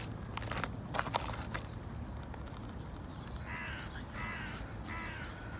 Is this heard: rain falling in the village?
no